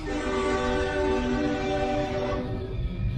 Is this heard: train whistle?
yes